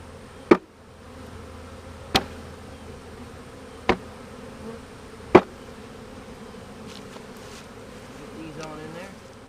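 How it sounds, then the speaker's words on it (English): A soft, steady drone of honeybees fanning inside a hive fills the background, broken by four sharp knocks spaced a second or two apart. "They're fanning the hive. They're staying in the hive."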